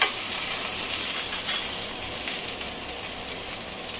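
Soft, even sizzle of rock salt and spices roasting in a pan for a fasting-day dish, a quiet continuous crackle with faint stirring.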